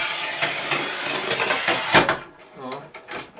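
A Sigma Serie 4 manual tile cutter scores across a tile with a loud, gritty hiss for about two seconds, then stops with a snap, followed by quieter clicks and handling noises and a voice speaking.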